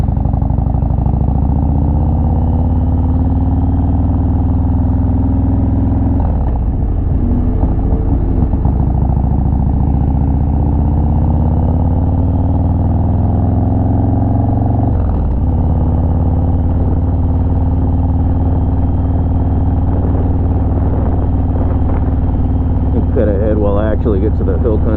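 A 2020 Harley-Davidson Low Rider S rides through hill country, its loud low engine rumble continuous and close, rising and falling with gear changes over 25 seconds, with wind noise.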